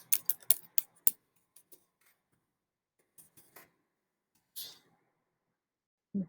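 Keys on a computer keyboard are tapped in a quick cluster of crisp clicks, followed by a few sparse, isolated taps in a quiet room.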